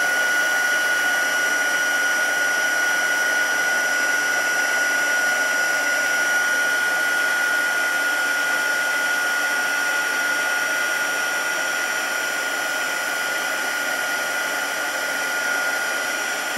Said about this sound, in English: You want to keep on moving your heat gun